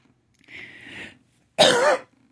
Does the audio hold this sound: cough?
yes